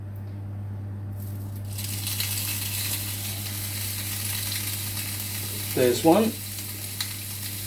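Burgers hitting a hot pan with a drizzle of vegetable oil, a steady broadband sizzle running throughout with a short burst of louder spitting near the end, close by, with a brief spoken remark.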